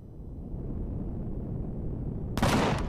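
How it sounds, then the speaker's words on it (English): Gunfire in the Empyrion Galactic Survival video game: a steady low rumble runs through, then a single loud, sharp burst of shooting erupts near the end. "Oh, I'm shooting at it"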